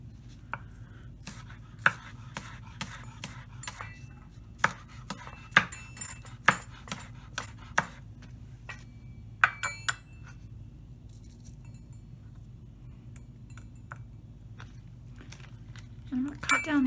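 Sharp knife taps on a cutting board as green onion ends are trimmed, a run of irregular close chops that fade out about halfway, followed by quiet kitchen handling.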